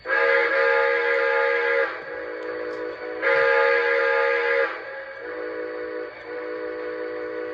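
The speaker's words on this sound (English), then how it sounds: "There's a little sneak peek of the whistle. Here's the whistle." A steady steam whistle from a model steam locomotive sound set sounds in two long blasts with a short pause between them, with a softer tone lingering in between, loud and close.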